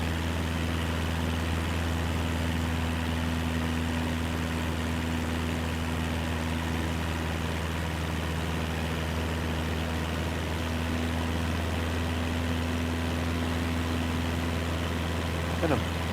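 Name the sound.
aircraft engine running in Microsoft Flight Simulator 2024 video game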